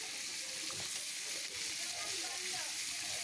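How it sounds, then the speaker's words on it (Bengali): Onions, tomato and green chili sizzle in hot oil, a continuous, fairly quiet crackling hiss with light stirring underneath and a faint voice in the background. "গরম তেলে আমি পেঁয়াজগুলো দিয়ে দিছি"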